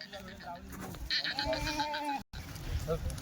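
Kathiyawadi goats bleat loudly and close by, a few overlapping wavering cries amid a noisy outdoor background with people talking at a goat market.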